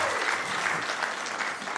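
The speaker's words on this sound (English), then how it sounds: "you can give applause to that" Steady applause from a crowd at a Sacramento City Council meeting, dense clapping throughout with no pauses.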